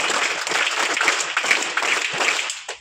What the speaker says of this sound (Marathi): अपुरा नेवसे मॅडम, त्यांच्यासाठी एकदा टाळ्या वाजवा